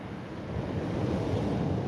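Huge ocean surf at the Kiama blowhole, with 7–8 metre waves on a 5.5 metre swell, roaring as a steady, loud, broadband wash with wind noise and no distinct individual crash.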